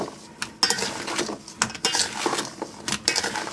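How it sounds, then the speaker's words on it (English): A big spoon tosses a rhubarb and berry cobbler filling dressed with lemon juice in a bowl, producing irregular scraping clinks and knocks against the bowl, close by and in short bursts. "And I'm going to get a big spoon. And I'm just going to toss all this together."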